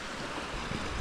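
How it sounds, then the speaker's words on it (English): Creek water flowing steadily at Clear Creek, a broad continuous wash of rushing noise close by with no voices. "This is Clear Creek."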